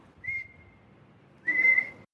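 A person whistles two clear tones, a short one followed after a pause by a longer, louder one, close and alone in a quiet room.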